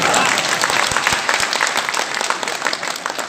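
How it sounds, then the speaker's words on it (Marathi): An audience at a poetry gathering breaks into loud, sustained applause, a dense crowd clapping close by that thins gradually toward the end. "तर टाळ्या वाजवल्या पाहिजे"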